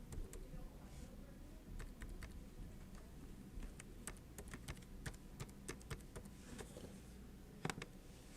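Quiet keystrokes tap on a computer keyboard while a form is filled in, coming in uneven clusters of light clicks over a low room hum.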